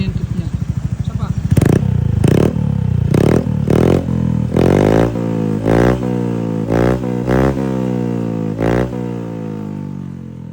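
Honda Beat V3 scooter fitted with an aftermarket exhaust with a large 45mm tip, revving in a series of sharp, loud throttle blips with rising and falling pitch, close by, with talk over part of it.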